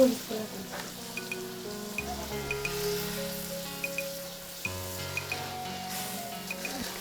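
Fish frying in a pan in a village kitchen, a steady soft sizzle under background music with sustained tones, with occasional stirring scrapes.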